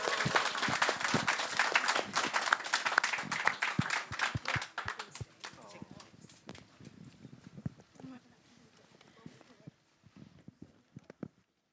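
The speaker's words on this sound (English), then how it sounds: "Let's give our creators one more round of applause for all of their work" An audience at a documentary screening claps in a burst of applause that thins out into scattered individual claps, with some voices murmuring underneath.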